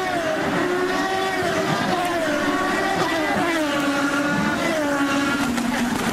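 IndyCar race cars scream along the Baltimore street circuit, high engine notes rising and falling in sliding pitch sweeps as several cars pass in a steady loud stream.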